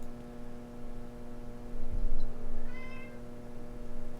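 A cat gives a short meow partway through, faint against a steady electrical hum and low background rumble, alone without any talk.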